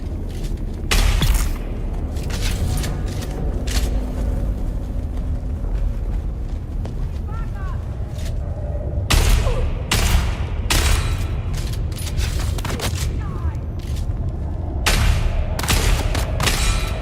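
Gunfire in the video game Dune Awakening: loud bursts of shots break out in several separate volleys, one near the start and others later on, over a steady rumbling game background.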